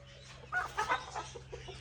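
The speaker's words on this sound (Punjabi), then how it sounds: "ਤਾਂ ਮੁਰਗੀ ਨੂੰ ਆਪਾਂ ਫੜ ਕੇ ਬਾੜ ਦਿੰਨੇ ਆ" A hen clucks several times in short, close bursts over a low steady hum.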